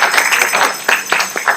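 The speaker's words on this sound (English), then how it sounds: "Give a round of applause, please." Audience applause after a speaker asks for a round of it, a short burst of scattered, fairly close claps with no voices over it.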